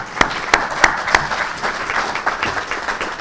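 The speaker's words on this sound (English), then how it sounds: "Another round of applause." Applause from a conference audience at a sheep plant association gathering, a few sharp claps standing out at first before settling into a steady, moderately loud patter of many hands.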